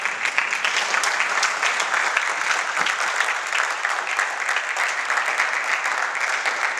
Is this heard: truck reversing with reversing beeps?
no